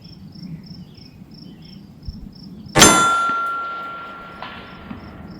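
A round from an AR-15 rifle strikes a steel target, giving one sharp ringing clang that decays slowly over a couple of seconds against a backdrop of steady chirping insects.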